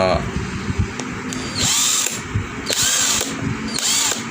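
Cordless brushed-motor electric impact wrench loosening and then tightening a car wheel nut, sounding in loud, close, whirring hammering bursts of about a second each with short pauses between, while someone talks over them.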